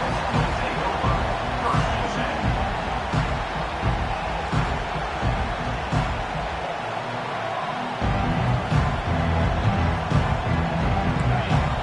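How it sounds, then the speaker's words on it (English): A large football stadium crowd roars steadily and loudly throughout, a dense sustained wall of cheering and noise with no pause. "This crowd trying to show them what it's going to be like all day in this house"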